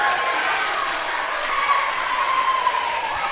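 A crowd cheering and clapping in a gym at a Loretto vs Summertown high school Class A volleyball match, a steady loud roar of voices and applause that holds throughout.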